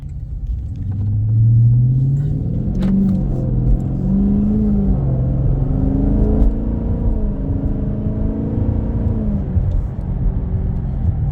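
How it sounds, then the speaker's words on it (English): A truck, a Dodge Magnum and a Buick Riviera idling after start-up, a close, deep engine rumble with a short rev and low whirring tones, steady throughout. "And start up the Magnum, start the Riviera."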